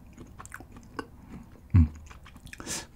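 Close-up chewing of pizza loaded with tomato sauce and crunchy onion topping: soft, irregular bites and mastication with one sharper crunch partway through, no talking.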